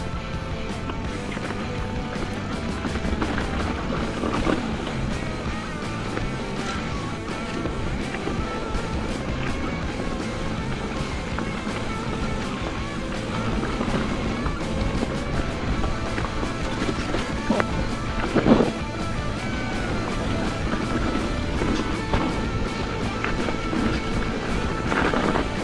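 A mountain bike rolls downhill over trail bumps, with continuous tyre rumble and rattling, scattered clunks and knocks from the terrain, and wind noise throughout; a brief louder jolt stands out partway through.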